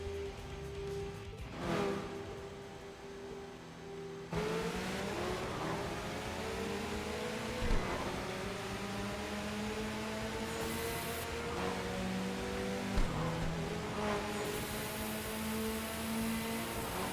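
A car in a racing video game accelerates with a nitrous boost, its engine droning steadily with rising, sweeping whine through repeated gear climbs and a hissing rush underneath, at moderate volume with no talk.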